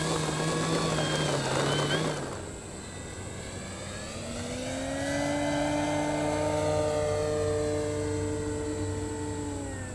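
An E-Flite Carbon-Z Cub SS, a 2.1 m RC model airplane, flies overhead with a steady electric motor and propeller drone that sweeps in pitch as it passes and changes throttle, loud and continuous with no talking.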